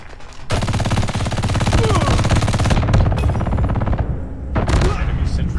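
A sentry gun in Call of Duty Mobile fires long continuous bursts, loud and close, with a short gap before a final burst and a voice speaking over the shooting.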